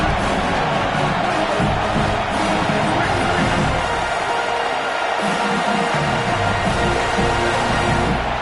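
Stadium crowd in a college football video game, a dense continuous roar that stays loud throughout, with a commentator talking over it.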